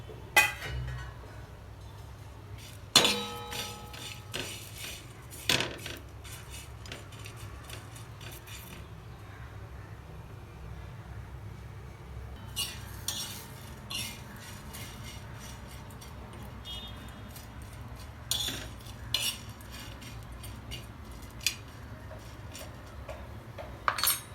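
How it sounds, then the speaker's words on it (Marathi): Dry coconut roasted and stirred in a pan for a Dhangari chicken masala, with scattered metallic clinks and ticks of a spatula against the pan over a steady low background. "खोबरं बी बरोबर भाजून घ्यायचं आहे"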